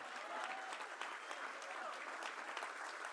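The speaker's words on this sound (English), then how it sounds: "Can we please keep that applause going?" Sustained audience applause at a community music center's centennial gala, a dense, steady wash of clapping filling the room from start to finish at a fairly quiet level.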